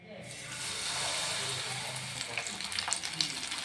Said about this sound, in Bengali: তারপরে এতে আমি চুবিয়ে এবারে আমি ভাজবো।